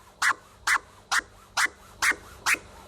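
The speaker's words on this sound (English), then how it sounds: "So a quick recap of the stab scratch, it sounds like this." Six short stab scratches on a turntable with the crossfader, cut by a DJ at an even pace about every half second, each a sharp clear burst standing alone with no talk.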